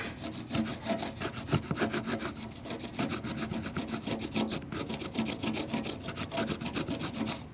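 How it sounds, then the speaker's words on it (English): A piece of wood scraped back and forth over rusty chrome, a close, steady rhythmic rasping with quick repeated strokes, fairly quiet and with no talking. "In order to get this rust off the chrome, you're going to want to scrape it with something that's not going to scratch the surface"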